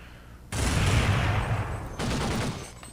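Firing-squad volley in the Roblox game Jailbreak: a loud burst of gunfire starting abruptly, followed by a second shorter burst, close and alone without talk.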